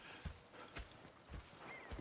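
Horse hooves clip-clopping in Red Dead Redemption 2, a quick run of muffled thuds at an uneven walking rhythm, close and moderately loud with no talk over them.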